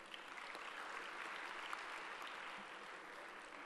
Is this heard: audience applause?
yes